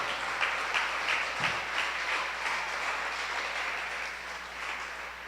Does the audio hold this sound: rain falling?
no